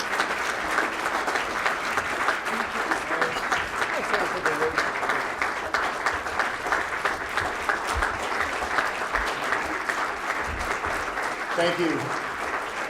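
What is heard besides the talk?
audience applause at business awards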